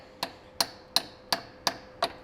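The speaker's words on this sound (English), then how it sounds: "I'm using the brass mallet." A brass mallet strikes metal on a Porsche 944 engine during timing belt work, giving six evenly spaced, sharp metallic taps about a third of a second apart, close and moderately loud, with no talking.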